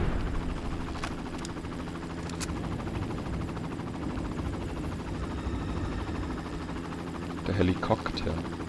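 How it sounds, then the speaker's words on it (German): Helicopter flying in the game Far Cry, a steady whirring rotor drone that stays loud and constant throughout, with a few brief clicks and a short burst of game sound near the end. "dann dürfte eigentlich der Helikopter hier lang geflogen kommen"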